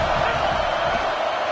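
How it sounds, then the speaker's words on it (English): A stadium crowd at a college football game, UGA versus LSU, roars in a dense, sustained wash of cheering, loud and unbroken with no distinct individual voices. "this crowd trying to help keep them there"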